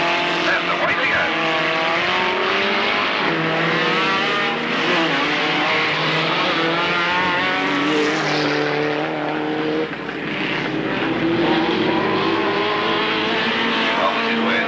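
Outlaws and Super Mods race cars at Alwalton roar together as a loud pack at the start of the final, engines revving and wailing in overlapping pitches, with a commentator talking over the din.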